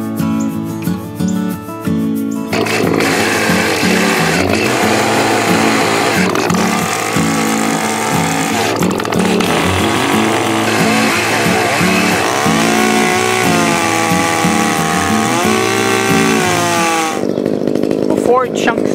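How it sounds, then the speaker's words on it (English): A loud chainsaw roars continuously up close while cutting a log, its engine pitch rising and falling as it bites into the wood, cutting off abruptly near the end. "Our next way is we're going to use the chainsaw."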